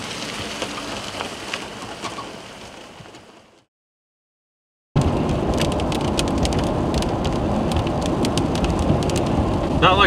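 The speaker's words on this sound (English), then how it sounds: "Not like a super heavy rain, but definitely coming down." Moderate spring rain falls steadily in northern Wisconsin, a dense continuous hiss with scattered drop taps, cutting out briefly to silence before resuming louder and closer.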